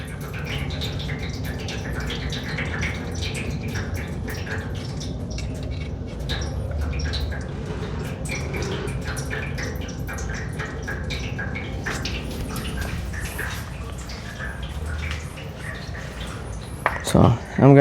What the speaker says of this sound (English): If you can tell, it's draining a little bit more because I opened this up.